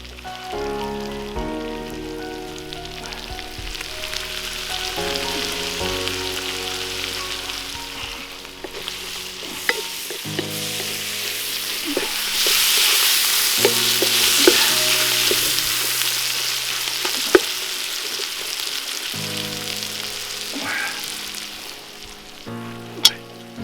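Ground squirrel meat fries, a dense sizzling hiss with scattered pops that swells in the middle, heard close beneath steady tonal music, with no talking.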